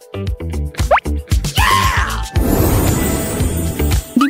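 Small drops of soda drip and plop one after another, then spill into a fizzing, bubbling splash that runs on, loud and close.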